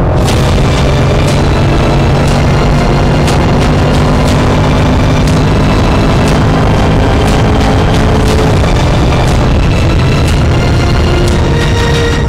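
A loud Range Rover Sport SVR engine rumbles steadily and deeply, with sharp pops and crackles bursting over it throughout.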